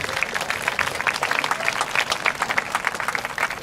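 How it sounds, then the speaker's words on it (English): Lively applause from a gathered crowd at a high school marching band and color guard summer showcase, individual claps distinct and crisp, steady for a few seconds. "Applaud yourselves."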